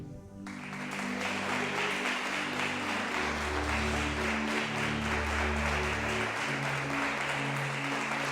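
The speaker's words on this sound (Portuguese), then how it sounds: "Aplauda o Senhor." A church congregation breaks into sustained, dense applause that swells after a brief pause and holds steady, with organ-like music sounding beneath the clapping.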